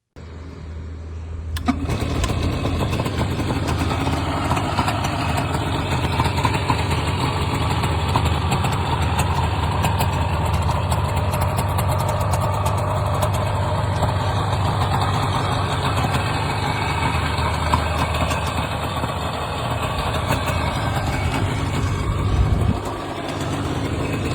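A classic motorcycle engine, one that revs smoothly, starts up and runs steadily at close range for about twenty seconds, a continuous low throbbing drone with no talk.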